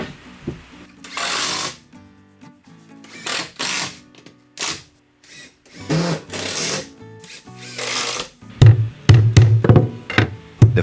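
A nail gun or hammer drives nails into a thin wooden stair riser indoors in a new-build house, with sharp repeated bursts at irregular intervals, loud and close, separated by quiet gaps.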